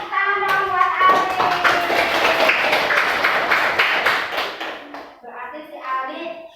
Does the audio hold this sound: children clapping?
yes